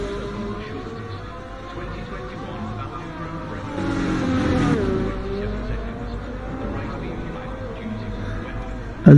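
An AlphaTauri Formula 1 car in a racing game, its high engine note droning steadily with rising and falling pitch as it swells louder midway, under continuous commentary speech.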